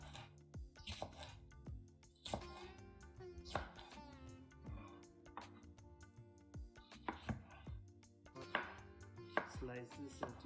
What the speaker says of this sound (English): Here I've got 3 green chillies. Let's chop them into small bits.